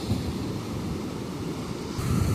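Surf from ocean waves on a beach in a video game, a steady broadband wash of water that swells louder near the end, with no talk over it.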